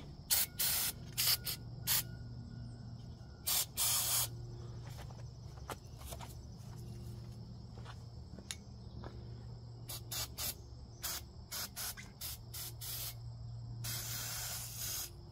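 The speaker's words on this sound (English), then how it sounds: "Okay, I'll spray them real quick." Penetrating oil sprayed on seized bolts of a 1983 Suzuki GS750 motorcycle: repeated short hissing aerosol bursts in irregular clusters, close, over a faint steady background hum.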